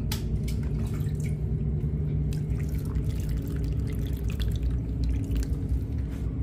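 Water is poured by hand into a potted Kochia plant's soil, giving a continuous trickling and dripping wash with scattered splashes, steady and fairly close.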